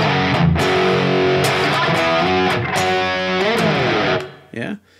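Distorted electric guitar slowly plays a riff, a dense sustained crunch with sliding pitch bends and a few sharp pick attacks, loud and close, fading into a brief squeal at the end.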